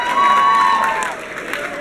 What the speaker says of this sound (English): let's give one round of applause for all the sponsors